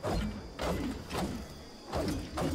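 The LEG-209 pickaxe swung in Fortnite gives a rhythmic series of muffled thumping impacts with clanking, rattling mechanical parts, four or five swings in quick succession, close and fairly loud, with no voices.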